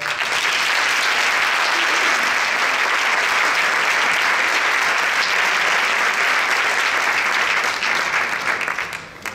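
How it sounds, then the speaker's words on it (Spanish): An audience at a Christmas concert breaks into loud, sustained applause, many hands clapping together in a thick, even roar that holds for several seconds before dropping away at the close. "un fuerte aplauso para ellos y para ellas, por favor"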